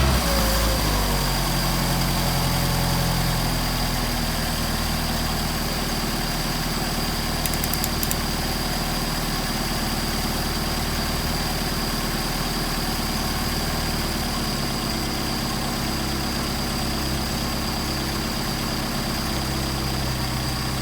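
A Mercedes 190SL engine fitted with Solex 44PHH carburetors idles steadily at close range, a smooth, even low rumble holding for about twenty seconds with no talking.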